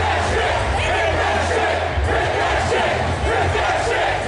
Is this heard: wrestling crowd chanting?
yes